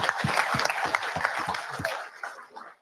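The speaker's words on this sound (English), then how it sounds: "Let's give her a round of applause." A small group at a live safety meeting gives a short burst of clapping for a speaker, a few distinct claps close by with brief chatter, fading out after about two seconds.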